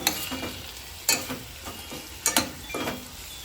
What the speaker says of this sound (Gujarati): હવે એને ગેસ ઉપર ધીમે તાપે 1 મિનિટ સુધી તેલમાં સંતળાવવાનું શાકનો.